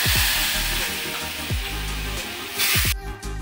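Tempering for sambar and kuzhambu sizzling in a pan, a loud, continuous hiss and crackle that stays steady, then cuts out sharply near the end.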